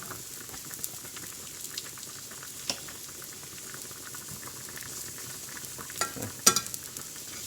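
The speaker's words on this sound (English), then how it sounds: "basically you're browning it in the pan" Pork schnitzel browns in butter in a pan, giving a faint, steady sizzle with scattered soft pops and a few louder crackles toward the end.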